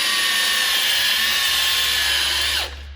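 A power buffer working car paint whirs steadily at high speed, loud and close, then begins to wind down at the very end.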